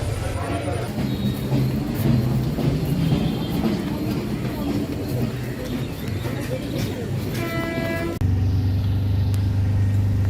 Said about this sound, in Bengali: রাতে স্টেশনে দাঁড়িয়ে ট্রেনের জন্য অপেক্ষা করছি কখন ট্রেন আসবে